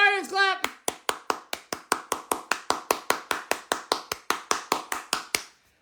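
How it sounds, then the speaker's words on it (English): A crowd of Cleveland Guardians fans claps in a steady chant rhythm, about two dozen sharp, evenly spaced claps ringing out one after another after a brief voice at the start. "Guardians clap, Guardians clap."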